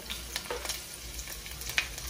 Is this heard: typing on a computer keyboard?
no